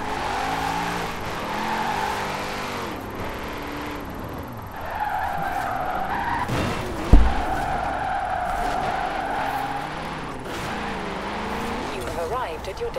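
A car drifts in Forza Horizon 4 with a sustained engine drone and long tire squeals that rise and fall through the slides, broken by one sharp thump partway through.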